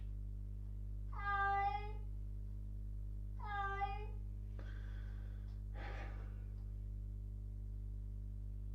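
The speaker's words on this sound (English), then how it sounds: "Live cat puke." A cat retching, heard as two close, strained vocal heaves about two seconds apart, followed by two short wet, breathy gagging bursts, fairly faint against a steady low hum.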